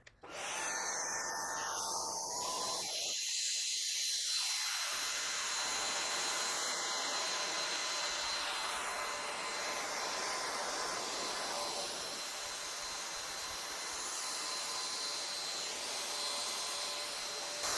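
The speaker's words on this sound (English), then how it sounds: "so let's go over a demo of using all 3 of the attachments so you can see just how powerful this vacuum is." A V16 Pro cordless vacuum cleaner with 50 kPa suction runs over a small carpet, giving a loud, steady whirring roar that holds for the whole stretch with slight shifts in pitch as it moves.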